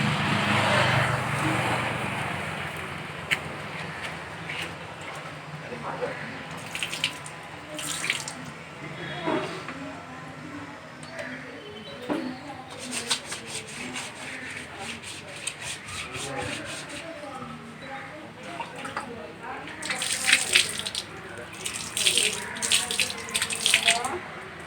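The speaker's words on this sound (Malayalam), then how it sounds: "അപ്പോൾ നമ്മുടെ കൂടെ വന്നിരുന്ന ഇവനും കൂടി കൈ കഴുകാണ്." A tap runs at a hospital washbasin while hands are lathered with hand wash and rinsed, a steady close splash with rubbing and intermittent louder bursts of water, as people talk faintly in the background.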